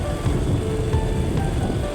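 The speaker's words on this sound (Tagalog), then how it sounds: "Maulan ngayong gabi mga idol, oh." Continuous rain at night hisses and patters steadily over a dense low rumble, like a downpour outdoors with distant traffic, no voices.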